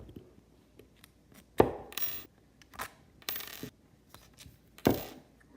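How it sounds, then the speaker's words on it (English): Tiny screwdriver turning small screws out of a servo case, a few sharp close clicks and brief scraping twists spaced apart, quiet otherwise. "So I'll start by unscrewing all these little screws."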